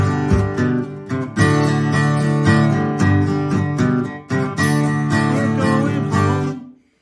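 An acoustic guitar plays a section of a song with a little bass-line figure, strummed chords ringing steadily and loudly, with brief dips between phrases and no talking.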